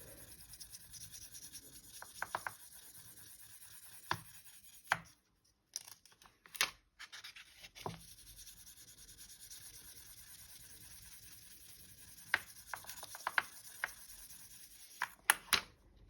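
Steel soap rubs and scrapes over polymer clay to smooth out ridges, producing quiet, close, irregular scratchy strokes with a few sharper taps and short pauses between them.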